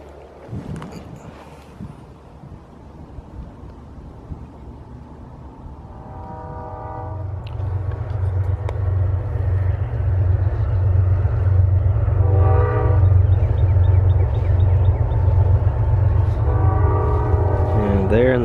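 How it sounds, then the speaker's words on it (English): A freight train rumbles past, growing louder and steadier, while its horn sounds in several long blasts, with a brief voice near the start. "There in the distance, you can see our freight train."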